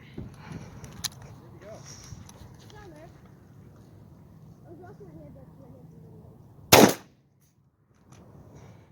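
A .410 shotgun loaded with TSS turkey shot fires once at a target about 35 yards off, a single sharp loud blast cutting through outdoor ambience and faint background voices.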